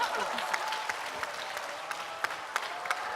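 A church congregation applauds a pastor couple, steady moderate clapping with a few sharper individual claps standing out near the end.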